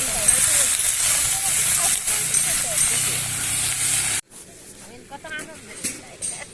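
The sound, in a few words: meat frying in oil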